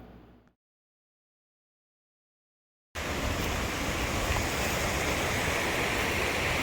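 The Tule River flows past Belknap campground among sequoias, a steady broadband rush of water that starts abruptly after a few seconds of silence.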